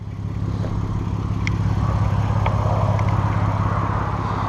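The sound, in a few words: Mk5 Golf R32 engine running, exhaust popping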